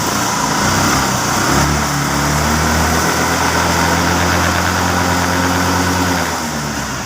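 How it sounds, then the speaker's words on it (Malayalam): A Hero motorcycle engine idles steadily just after starting, a loud, continuous low drone with a constant rhythmic throb, running close by without any talking. "ഇപ്പോൾ വണ്ടി സ്റ്റാർട്ട് ആക്കിയിട്ടുണ്ട്."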